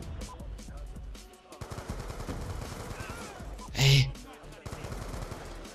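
Rapid automatic gunfire from the Call of Duty Black Ops 2 video game crackles in bursts, with one louder blast near the end, over game sounds and some background voice.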